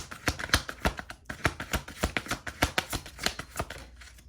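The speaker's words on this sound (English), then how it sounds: "Let me shuffle for real." Rapid riffling of a card deck, bursts of crisp flicking clicks repeating in quick rhythm, close and fairly quiet with no talking.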